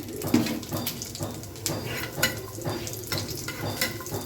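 Pieces of taro fry in a pan for Bengali kochu bhorta, a soft close sizzle with intermittent stirring scrapes and gentle crackles.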